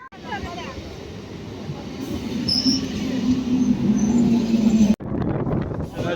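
A passenger train rolls through Bonkashi station, with a steady loud rumble and a rising wheel squeal that cuts off sharply near the end, as people talk on the platform.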